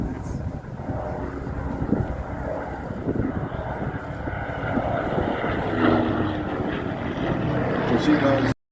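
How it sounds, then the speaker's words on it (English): Warbird aircraft, including Spitfires, flying at the Warbirds over Wanaka airshow, a continuous propeller-engine drone at middle distance under someone commentating over a public-address system. "So many aircraft."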